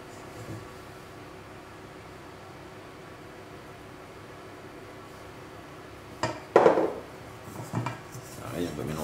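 Melted butter is stirred into a tomato paste mixture. After a long near-silence, a spoon scrapes and clatters against a bowl in a few close, uneven bursts toward the end.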